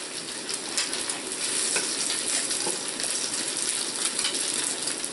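Scraping seared salt, pepper and cumin off a hot pan while lamb chop fat renders, loud steady sizzling and frying hiss with faint scraping and metallic ticks underneath.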